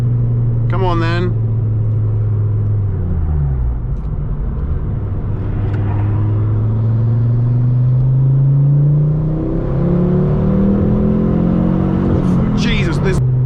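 A Ford Focus ST225 with a Revo Stage 2 tune accelerating on a country road, engine note climbing through the revs with a gear change partway, loud and close from inside the cabin, with brief talk at the start and end.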